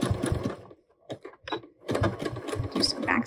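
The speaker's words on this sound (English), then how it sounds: "And I'm going to lower my needle, do a little bit of backstitching." Sewing machine stitching elastic into a pants waistband at 5/8 inch with backstitching, two bursts of close, fast mechanical whirring separated by a short pause with a few light clicks.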